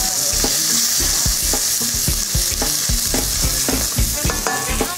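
Onions fry loudly in a pan and are stirred with a utensil, a dense close sizzle broken by frequent scraping and clacking strokes, with no talk.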